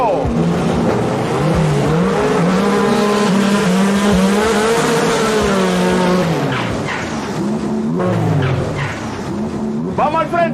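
A powerful Cougar drag car roars loudly down the strip at a drag racing event, its engine note climbing steadily through the run, while a Spanish-speaking announcer talks over it throughout.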